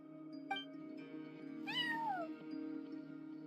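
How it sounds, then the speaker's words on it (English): A cat meows in the Genshin Impact video game, one short chirp followed by a longer falling meow over a steady low game-music drone. "cat watching over the front desk. Excuse meow?"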